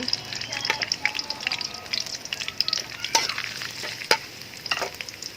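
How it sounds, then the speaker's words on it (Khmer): Garlic hitting hot oil in a shrimp and pineapple stir fry, a steady close sizzle with scattered pops and crackles, stirring scrapes and faint background voice. "ចាចុះយើងក្តៅចឹងមក ក៏មកយើងចាក់ខ្ទឹមពងយើងចូល"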